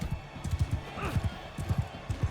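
A horse gallops in Mount & Blade II: Bannerlord, its hooves striking in quick rhythmic clusters of dull thuds, close and steady, with the faint hum of the game underneath.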